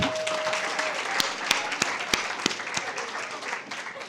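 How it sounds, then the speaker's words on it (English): Audience applause at an entrepreneurship week youth clinic, a broad wash of many hands with several loud, sharp single claps standing out near the mic, tapering toward the end. "Let's give them a round of applause."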